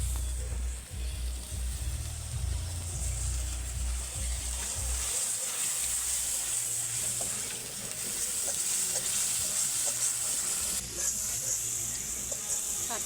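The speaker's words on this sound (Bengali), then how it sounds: "মশলাটাকে কষিয়ে নিচ্ছি।" Spice paste fries in oil for a tilapia curry, a constant bright sizzle broken by irregular stirring scrapes, with a low rumble under the first half and a short lull near the end.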